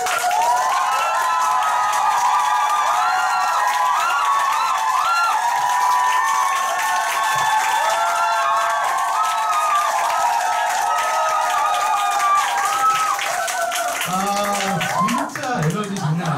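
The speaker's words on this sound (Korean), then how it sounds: "엄청난 박수" Loud, sustained audience applause and cheering at a Nu Skin business event, with crowd whoops and shouts over the clapping for most of its length before it thins out near the end.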